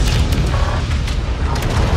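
Enemy frigate blowing apart in the space battle game Homeworld 3, a loud, deep rumbling boom with a few crackling bursts layered over a sustained roar, with no talk.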